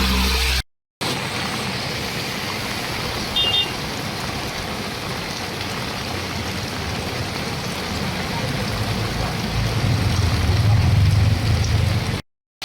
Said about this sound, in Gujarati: તમામ ગામડાઓમાં વરસાદની પધરામણી થઈ છે